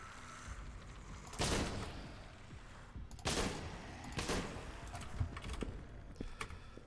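Gunfire in the zombie shooter Dead Frontier crackles in a few short bursts against a steady hiss of game background noise, with faint clicking between volleys.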